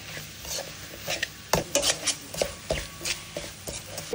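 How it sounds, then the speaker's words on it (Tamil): Masala and chicken are stirred in a pan, with faint scraping and soft irregular clinks of a utensil against metal, quiet and close, with a sharper knock partway through. "இப்போ நம்ம அப்படியே கிண்டி விட்டுடலாம் மசாலா."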